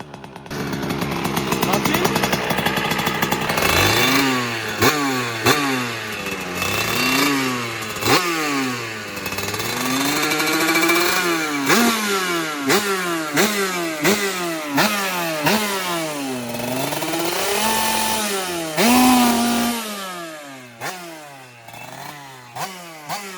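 A 50cc moped engine with an air box is kicked into life and revved hard to full throttle again and again, a loud buzzing two-stroke wail rising and falling close by, with a voice now and then.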